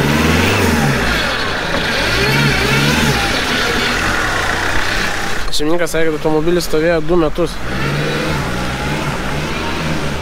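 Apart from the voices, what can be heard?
Mercedes AMG E63 engine revving and accelerating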